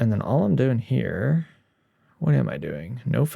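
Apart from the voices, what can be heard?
No distinct noise like a dog, phone or traffic.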